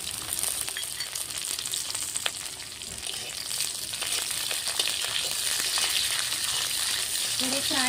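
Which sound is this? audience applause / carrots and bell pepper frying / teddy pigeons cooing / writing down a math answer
carrots and bell pepper frying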